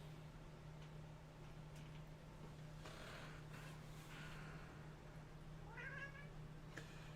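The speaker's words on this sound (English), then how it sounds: "I got a cat right here." A cat meows close by, a short rising and falling call near the end, over a steady low electrical hum and room noise, with no talking.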